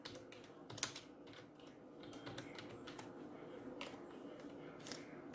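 Steady, fairly quiet typing of Java code on a computer keyboard, with rapid light key clicks running continuously and no voices.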